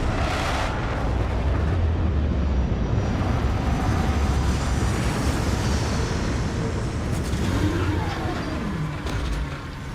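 Aircraft engine roar in a video game as the plane comes in to land, a loud steady drone filling the whole stretch with a slight shift in pitch near the end.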